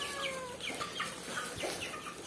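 Chickens clucking close by as they are fed corn, several short overlapping clucks and squawks over steady farmyard background noise, no talking.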